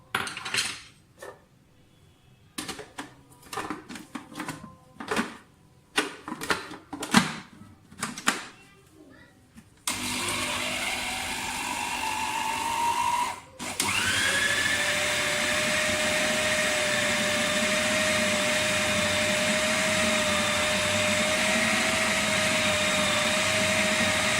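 An electric chopper whirs while chopping a ground meat and spice mixture for gola kabab, a loud steady drone starting midway after clattering dishes and spoken talk in a home kitchen.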